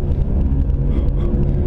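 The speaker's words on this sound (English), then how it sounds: "The Honda Accord in front of me has no muffler. You can hear that. That is what straight pipe Honda sounds like." Loud, steady low rumble of a Honda Accord running a straight-pipe exhaust with no muffler, droning continuously from just ahead in traffic with no break.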